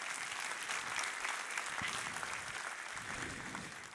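Church congregation applauding after a sermon on God as healer, a dense, continuous wash of many hands clapping, moderately distant and steady throughout, with faint voices mixed in.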